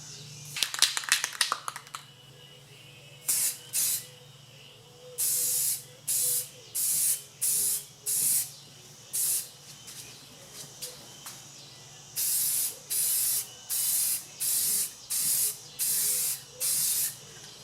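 An aerosol can of clear coat sprays a car headlight in repeated short hissing bursts, close and evenly spaced with brief pauses between them, after some rattling at the start and with no voices.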